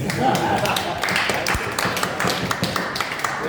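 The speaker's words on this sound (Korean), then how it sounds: "그럼 박수 한번 쳐주세요." Applause from an audience at a lecture, a dense crackle of many hands clapping that fills the room steadily, with murmuring voices mixed in underneath.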